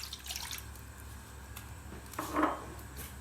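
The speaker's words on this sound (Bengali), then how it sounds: "এখন এতে পানি দিয়ে দিচ্ছি 1 কাপ" Water poured from a cup into a pan on a stove, a brief splashing burst near the end after faint drips and clinks, close and quiet.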